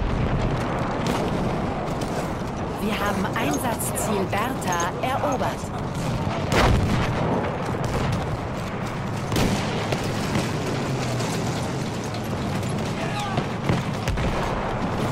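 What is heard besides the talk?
gunfire in video game Battlefield 1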